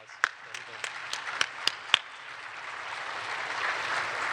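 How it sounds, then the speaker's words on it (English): A conference audience claps steadily, with a few sharper individual claps standing out early before the applause settles into a dense, even patter. "I'd like to give all these guys a real round of applause"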